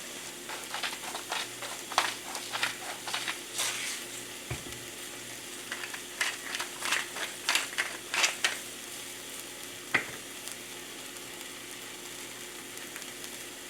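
An omelet frying and sizzling in a pan, with a steady hiss under bursts of scraping and stirring, plus a couple of sharp knocks against the pan partway through.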